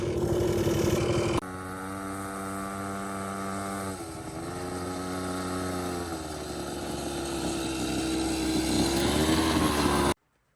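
Small pocket bike engine running steadily and loudly for about ten seconds, a buzzy two-stroke drone with shifting revs, cutting off abruptly at the end.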